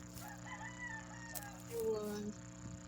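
A chicken crows in a brief rising call in the Roblox horror game The Butchery, fairly faint, over a steady hum and background game noises.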